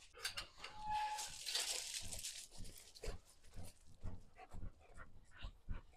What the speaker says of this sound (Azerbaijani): Düşünürəm ki, itləri açıb buraxsaq yaxşı olar, oynasınlar.